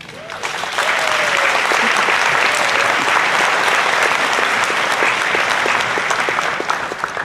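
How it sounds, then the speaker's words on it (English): A large crowd at a medical school white coat ceremony breaks into loud, sustained applause that swells within the first second and holds dense and even before easing off at the end. "please also give yourselves a round of applause right now"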